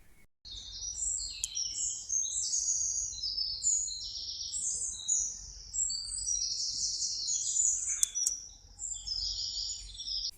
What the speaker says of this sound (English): some lovely bird noises recorded very early last Sunday in our local park